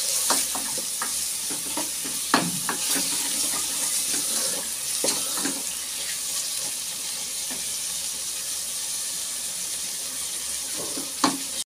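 Chunks of mutton, cut and washed, fry in a pan for a spinach-and-mutton curry, giving a constant close sizzle broken by sharp scraping clinks of a spoon stirring against the metal, with no talking.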